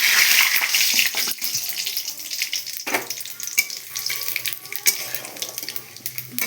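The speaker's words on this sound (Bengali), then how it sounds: "লাল লাল করে ভেজে নিচ্ছি জিরে তেজপাতাটাকে" Cumin seeds and a bay leaf fry in oil in a kadai for a chicken dish, a bright, close crackling sizzle that swells and dips, broken by a few brief scraping knocks, with no speech.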